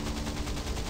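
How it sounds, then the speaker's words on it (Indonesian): Rapid automatic naval cannon fire from a warship in the game Modern Warships, a dense continuous burst of booming shots in quick rhythm, loud and close. "Itu meriam otomatis."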